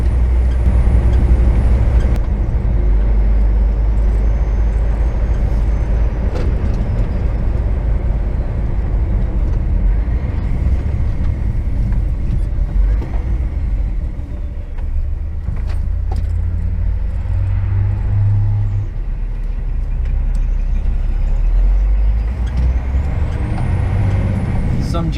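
A large truck rumbles steadily along a narrow Irish country road in the west, its deep engine drone continuous and close, with hisses of air brakes and rattling cab noises, and occasional voices talking in the cab.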